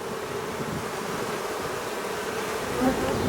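Dense, steady buzzing of many honey bees swarming around an open hive during an inspection, a continuous close drone with no voices.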